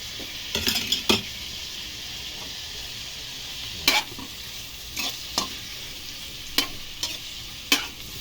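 Tomatoes frying in a pan with a steady sizzle, while a utensil stirs and scrapes against the metal in several sharp, separate strokes close by.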